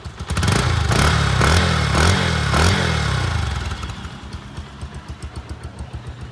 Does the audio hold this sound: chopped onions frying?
no